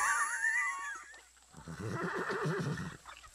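Horse neighs loudly with a quavering, high whinny, followed by lower snorting, pulsing whinnies close by, in a short outdoor scene.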